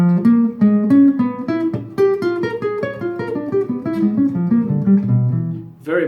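A jazz guitar plays a quick diminished scale lick, clean plucked single notes in a steady run, close and clear, alone without voices and ending with a brief strum.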